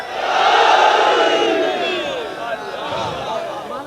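A large majlis audience shouts the Nara-e-Haidari slogan together, a loud, sustained collective cry that swells at the start and slowly fades over several seconds, with no one speaking over it.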